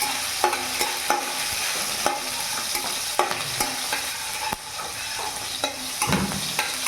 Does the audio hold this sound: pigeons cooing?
no